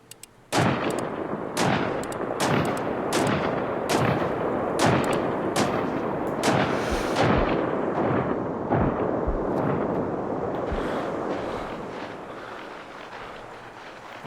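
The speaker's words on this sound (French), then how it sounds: "Là ça flingue." Rapid gunfire from the video game Sniper Ghost Warrior 3, a dense sustained barrage of loud sharp shots cracking in quick succession for most of the stretch, tapering slightly toward the end, with no talking.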